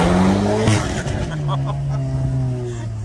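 Loud Volkswagen Golf 8 R with its engine note and tyre noise, strong engine tones sliding in pitch and a brief squeal-like sweep, with people talking over it.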